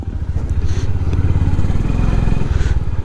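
A Honda Highness motorcycle with its engine warning light on runs steadily during a test, a loud, close, continuous low thump of the idling engine with a brief light rise near the end.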